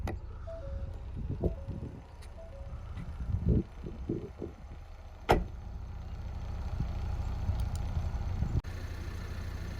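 A 2020 Ford Escape Titanium power liftgate closes with a soft motor hum and a few faint tones, then a sharp latching thump, all at low level.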